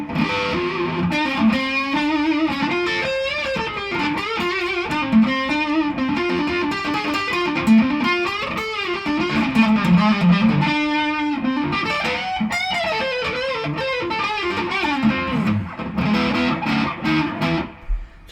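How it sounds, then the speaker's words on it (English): A heavily distorted electric guitar, a Firefly, played on the neck pickup, playing a continuous melodic riff with a warm, round tone, loud and close, with no voices. "So distortion with the neck pickup on,"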